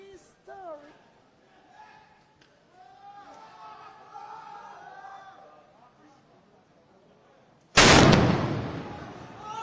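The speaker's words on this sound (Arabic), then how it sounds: "انفجار ضخم الآن، استهداف لآليات الاحتلال بعبوة محلية الصنع" A large improvised roadside bomb detonates against occupying military vehicles during a raid in eastern Nablus, a sudden loud broadband blast that decays slowly, preceded by background voices, crowd noise and whistles.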